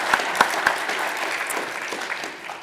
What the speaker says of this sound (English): let's just give them a round of applause for sharing what they've shared